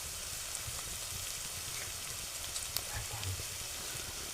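Onion frying in a pan gives a faint, steady sizzle with occasional soft stirring clicks, quiet and close.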